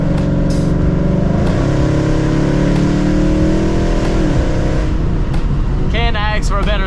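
Ford Mustang engine rumbles steadily while cruising on a sunny day, a deep droning exhaust note heard from inside the car with slight pitch swells. Wind or tire noise rises near the end.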